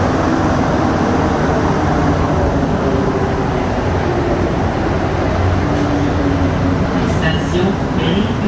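A Montreal Metro train on the green line rumbles steadily and loudly throughout the ride, with a constant low roar and a few brief high squeals near the end.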